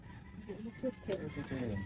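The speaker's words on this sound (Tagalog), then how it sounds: "Sumabi pati manok." Short clucking calls from a chicken, fairly close, with soft background chatter and low rumble underneath.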